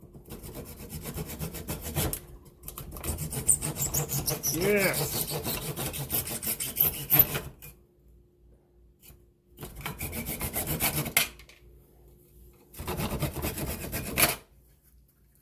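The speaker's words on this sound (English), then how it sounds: "we're sawing." A handsaw cuts through a plastic piece clamped in a vise, with rasping strokes coming in three bursts separated by pauses, and a short spoken exclamation in between.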